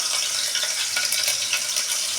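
Ginger, garlic and cumin go together into hot oil to start a fish-head bhuna, giving a steady, close, bright sizzle of frying with no talking.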